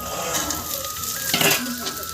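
Peas, onions and green chillies frying in a pan with salt, a steady close sizzle broken by stirring scrapes, with a louder burst of crackle partway through.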